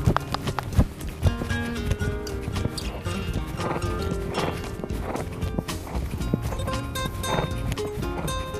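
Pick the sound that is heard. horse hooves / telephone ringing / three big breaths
horse hooves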